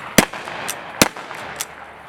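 Civil War era Henry repeating rifle fired outdoors in a backyard, giving two sharp, loud cracks about a second apart, with fainter echoing reports trailing after each shot.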